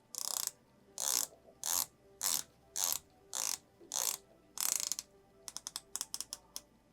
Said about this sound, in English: So let's listen to the bezel action.